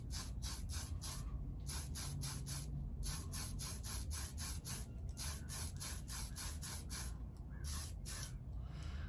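Short repeated hissing bursts of Tamiya paint from an aerosol can onto a Revell 1937 Ford pickup model kit, a rhythmic series of close sprays with brief gaps between.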